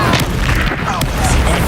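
A heavy boom from the Bombarda blast spell in Hogwarts Legacy rumbles loud and close, a deep sustained crash filling the short moment with faint voice traces mixed in.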